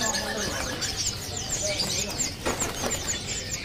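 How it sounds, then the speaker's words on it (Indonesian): An East Javan pentet shrike calls amid a busy chorus of caged birds for sale, rapid overlapping chirps and trills running continuously, with a few louder chattering bursts near the end and voices faintly underneath. "Ini ada burung pentet Jawa Timur bahan ya"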